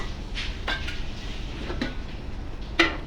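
A lid set down on a pot of engar dal (lentils) gives one sharp metallic clink near the end, after a few softer kitchen knocks over a steady low background hum.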